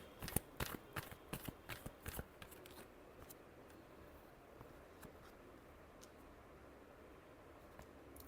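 Tarot cards being shuffled, a burst of crisp riffling snaps and flicks over the first couple of seconds, then fading to faint scattered taps against a low hiss.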